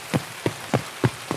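Rain falls in Escape from Tarkov on the Shoreline map. Soft, evenly spaced patters of drops land on a surface over a faint steady hiss, with no voices.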